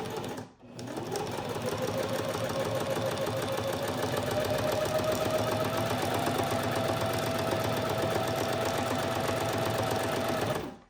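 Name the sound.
sewing machine back stitching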